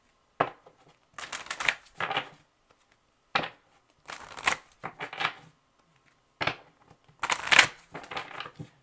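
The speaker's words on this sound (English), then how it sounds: "Two more shuffles for Cancer, two more shuffles for Cancer." Tarot cards being shuffled in several quick bursts, crisp riffling and slapping sounds separated by short pauses, close and fairly loud with no talking over them.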